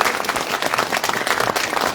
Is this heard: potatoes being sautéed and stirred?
no